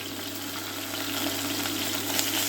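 Garlic and ginger paste sizzles steadily in hot oil in a pan with cardamom and star anise, a continuous close frying hiss with no talking.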